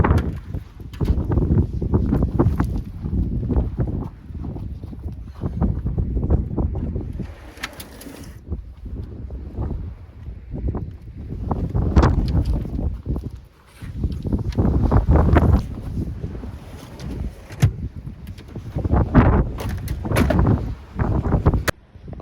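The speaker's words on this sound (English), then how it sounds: "either way it's still going to be windy" Strong wind buffets the microphone at an exposed van camping spot on a cliff edge, coming in loud, rough gusts that rise and fall throughout.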